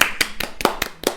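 Six rapid hand claps in an even rhythm, close and crisp, with no talk over them, opening a Catalan podcast episode.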